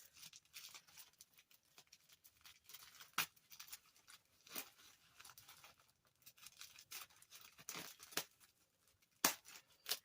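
Old carpet is torn up from a floor during a tiny home renovation, with quiet, sporadic ripping and tearing bursts, occasional scissor clips and soft handling noises, close and fairly faint.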